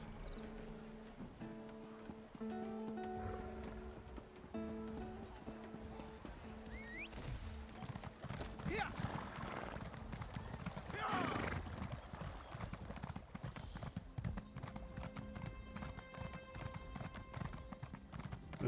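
Steady clip-clop of a slow horse's hooves in the video game Elder Scrolls Online, moving at a brisk pace, with a brief whinny and background game sounds and voices mixed in.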